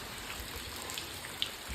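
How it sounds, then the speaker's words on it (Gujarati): Rain keeps falling in a steady, soft wash of hiss with a few faint drop ticks, quiet and continuous, no one speaking. "વરસાદ હજી નહીં ગયો"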